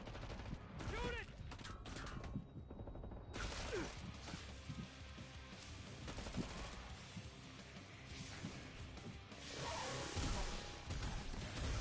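Rapid gunfire from the Killing Floor 2 video game rattles through dense bursts and volleys, loud and continuous across the whole stretch, with whooshes and crashing impacts mixed into the fight.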